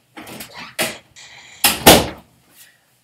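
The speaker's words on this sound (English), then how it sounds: "let me close my door" A room door is pushed shut in a home: a few short knocks and thuds, then two louder close bangs near the end, all close by with no talking.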